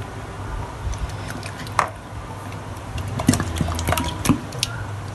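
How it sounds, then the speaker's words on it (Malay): A tin of canned corn tipped into a pot of custard pudding, with wet squishy plops and drips in an uneven series, moderately close. "masukkan jagung satu tin"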